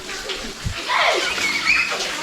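Water pours out and splashes down at Antharagange spring in Kolar, a soft continuous rushing and trickling heard nearby, with a few brighter splashy bursts and faint background activity.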